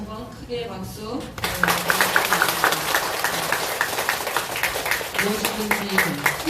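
A temple congregation bursts into applause for a monk after a Dharma talk, with loud, dense clapping starting after a spoken line and continuing steadily, a voice speaking over it near the end.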